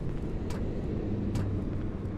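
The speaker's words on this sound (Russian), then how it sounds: "ты слышишь, машины ездят-то?" Distant cars driving by in the horror video game Cry of Fear, heard as a low continuous rumble with a couple of faint passing swells, quiet and without talk.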